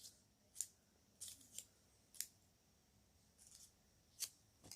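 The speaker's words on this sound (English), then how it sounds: "I have a paper. I have some scissors. Cut." Scissors snip through paper while a paper Frisbee is being made: about six sharp, crisp cuts at irregular intervals, close and fairly quiet over a low background hush.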